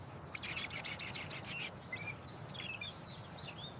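A common tailorbird calls in a quick run of sharp, evenly spaced chirps, fairly close, then drops to softer scattered twitters over steady low background hum.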